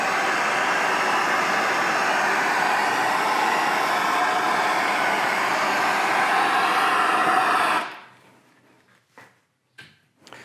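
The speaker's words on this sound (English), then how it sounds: "take a torch to this on the arbor press and just warm this guy up just a little bit" A torch roars with a steady, loud hiss while heating a part on an arbor press during a Monarch lathe clutch bearing install, then cuts off abruptly, leaving quiet with a few faint clicks and taps.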